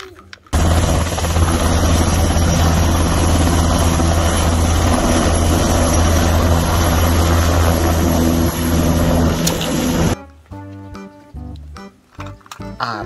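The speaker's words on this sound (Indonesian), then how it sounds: "Ada helikopter militer" A military helicopter roars loud and steady with a thick, continuous rotor and engine drone for about ten seconds, then cuts away to quieter, choppy sounds.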